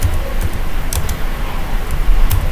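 Keystrokes tapping on a computer keyboard while entering spreadsheet data, a handful of sharp clicks scattered over a low steady background hum, close and moderately loud.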